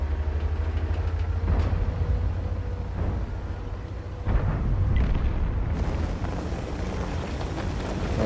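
Artillery shells burst around a tank in World of Tanks, giving a continuous loud rumble with several heavy booming impacts and a rising blast near the end.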